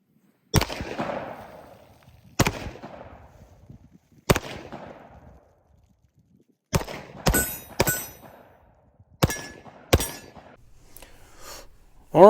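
Single shots from a Smith & Wesson M&P 10mm 2.0 pistol, about eight loud sharp reports at uneven spacing of one to two seconds, each with a short ringing decay in an open setting, no talking.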